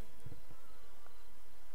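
Bees buzz in a Sims 4 game scene, a soft, continuous insect drone that stays faint and steady with no talking over it.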